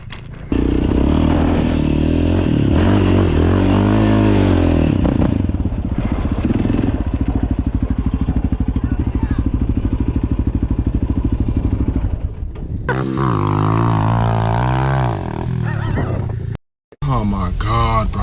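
A Yamaha Raptor 700R ATV climbs a sandpit with wheels spinning, its engine droning loud and steady for a long stretch before briefly dropping out, while excited voices talk over it.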